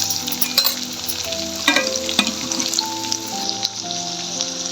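Spiced masala sizzles and crackles in hot oil in a kitchen pan, with asafoetida added while it sautés for a spicy brinjal dish; a steady close frying hiss with occasional stirring scrapes and pops, no talking.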